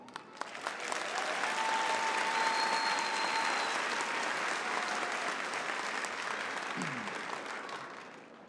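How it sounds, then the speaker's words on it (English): A large crowd applauds at a 2022 early college high school graduation ceremony, sustained dense clapping that holds steady for several seconds before gradually tapering off. "I think we all deserve another big round of applause."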